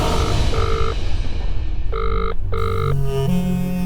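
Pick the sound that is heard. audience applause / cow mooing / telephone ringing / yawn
telephone ringing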